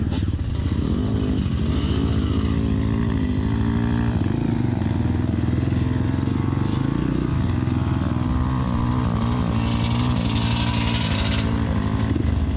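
Kayo 300 motorcycle engine running loud and steady throughout a muddy off-road ride in Bulacan, with rough revving surges, rattling clatter and occasional scraping close by.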